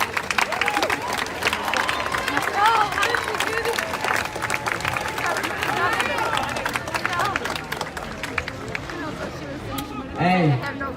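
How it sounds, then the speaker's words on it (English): A crowd at a Black Lives Matter protest in Rochester claps and cheers for a rapper, with dense clapping and whoops mixed with crowd chatter and voices throughout, close and lively, swelling again near the end. "Give him a round of applause as he comes."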